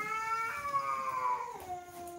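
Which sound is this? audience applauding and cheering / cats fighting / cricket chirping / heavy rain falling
cats fighting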